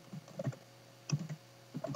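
Typing on a computer keyboard while entering a URL: quiet clusters of quick key clicks come in three short bursts separated by brief pauses.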